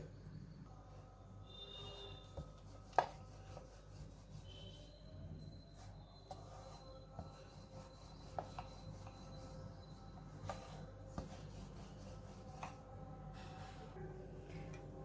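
Soft, quiet rubbing and rasping strokes repeat as fenugreek paratha dough is rolled out, with occasional light taps and clicks.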